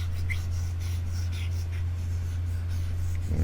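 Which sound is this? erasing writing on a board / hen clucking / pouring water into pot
erasing writing on a board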